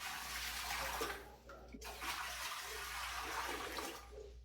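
Water pours steadily from a tap into a container to start a salt brine for curing home-raised pork, a continuous rushing splash with a short pause midway, close and fairly loud.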